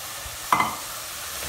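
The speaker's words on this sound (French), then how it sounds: "maintenant je rajoute les oignons" Chopped onions dropped into a pan of frying minced meat for chili con carne, giving one sudden sizzling burst with a brief scrape of stirring that quickly settles back into a low, steady background hiss.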